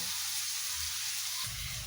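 Onions sizzle steadily in hot oil in a Kenyan home kitchen, a continuous close frying hiss with a slight rise near the end and no talking.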